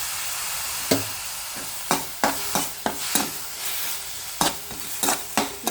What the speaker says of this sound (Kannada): ನಾನು ತೋರಿಸಿದಂಥ ಎಲ್ಲ ವಸ್ತುನೂ ನಾನು ಇದರೊಳಗೆ ಹುರ್ಕೊಂಡು ಬೆಚ್ಚಗೆ ಮಾಡಿಕೊಂಡೆ